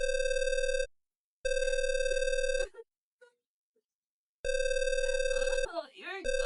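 Telephone line tones on an old landline call: a steady high-pitched tone sounds in long bursts, separated by silent gaps and a few faint clicks, with brief talk over the final stretch.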